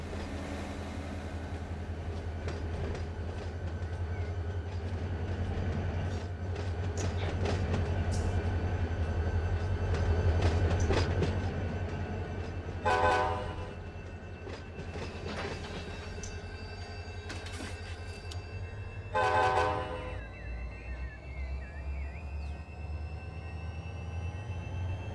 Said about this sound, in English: We got to drop off this locomotive here.